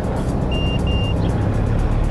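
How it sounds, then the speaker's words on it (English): Two short electronic beeps in quick succession from a moisture tester scanning feed, clear over a steady low rumble of background noise. "instead of one beep, you're going to hear two beeps"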